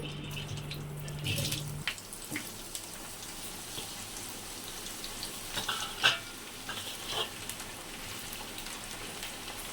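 Bitter gourd pieces frying in hot oil give a steady, moderate sizzle, with scattered crackles and a few sharper pops, heard close and without talk.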